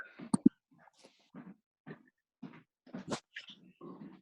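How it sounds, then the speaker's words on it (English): A dog outdoors makes faint, scattered short whines and yips with quiet gaps between them. "This dog won't come in yet."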